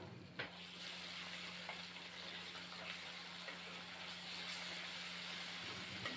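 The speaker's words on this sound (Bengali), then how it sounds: "এখন সিদ্ধ করে ধুয়ে রাখা ছোলা দিয়ে দিলাম।" Boiled chickpeas hit a frying spice mixture and set off a soft, even sizzle that continues throughout. A faint low hum lies under it, with a small clack near the start.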